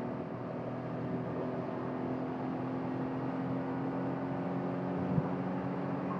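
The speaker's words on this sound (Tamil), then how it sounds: "ஒன் டுவெண்ட்டி டச் பண்ணுறதுக்கு இவ்வளோ சத்தம் போடுது." A Maruti Suzuki Swift 2024 with the 3-cylinder Z series engine and manual transmission accelerates on a road, a steady droning engine hum that builds gradually, heard from inside the cabin with no talk.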